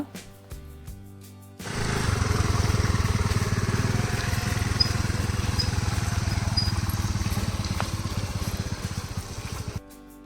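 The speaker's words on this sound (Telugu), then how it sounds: "శ్రావణ్ కొంచెం ముందుకలా స్కూటీ నడిపించాడు" A scooter engine runs close by at a steady throttle on a muddy road near Palolem Beach, Goa, its buzzing drone lasting several seconds after a brief lower rumble at the start.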